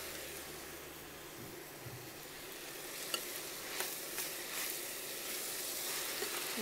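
Chopped Roma tomatoes land on softened onion in a hot pan, and a steady close sizzle of frying follows, with a few sharp pops and stirring clicks along the way.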